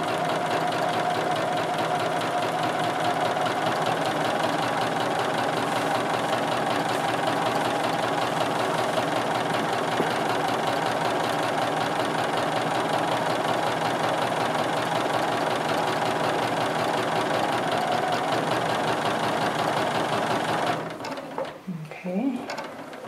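Sewing machine quilting a quilt along half-inch grid lines, its steady motor whir and rapid needle rattle running loud and continuous for about twenty seconds before stopping abruptly, followed by faint handling noise.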